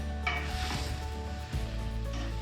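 Spinach leaves and spices are stirred in a hot pan for a saag aloo curry, giving a steady close sizzle with soft scraping movements throughout.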